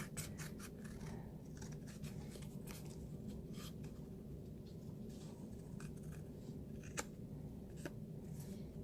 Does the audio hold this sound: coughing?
no